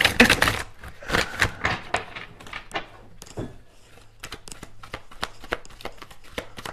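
Tarot cards are shuffled in quick rustling riffles and soft slaps, several bursts in a row, close and crisp in a quiet room.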